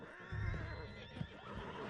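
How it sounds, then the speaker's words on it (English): A horse neighs in the video game Red Dead Redemption, a short, close whinny with some hoof clatter around it. "Put Strauss on the back of John's horse, and let's get out of here"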